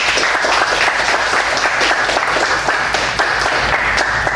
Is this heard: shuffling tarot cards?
no